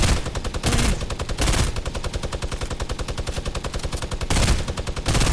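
Rapid automatic gunfire from a machine gun in the Fortnite video game rattles loudly and continuously, with several heavier bursts standing out, and no talking over it.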